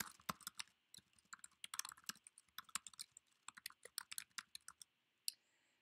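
Quick, uneven clicking of computer keyboard keys as an address is typed, close and crisp, with a short pause near the end.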